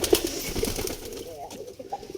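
Soft pigeon coos sound close by amid a busy, cluttered background, with a few brief low calls standing out.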